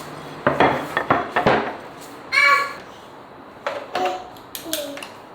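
A knife cuts food in a kitchen with utensils: short clacks and scrapes against a board or dish, then a sharper rattle and a few lighter taps, close and fairly quiet, with a voice at moments.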